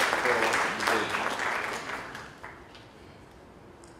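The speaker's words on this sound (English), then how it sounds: "you deserve a big round of applause" Audience applause at a launch event with guest speakers, a broad wash of clapping that is loudest at the start and fades away over the following seconds.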